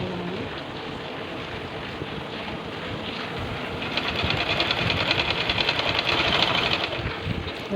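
A sewing machine stitches the neckline of a suit, running steadily with a close, whirring drone that grows a little louder and more rhythmic toward the end.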